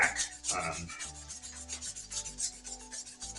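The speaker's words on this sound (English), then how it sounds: "run a high grit sandpaper along that piston rack or track" High-grit sandpaper rubbed along the piston rack of a Tokyo Marui Next Gen recoil airsoft gun, a series of short, close, dry scratchy strokes in a quick back-and-forth rhythm, with nothing else heard.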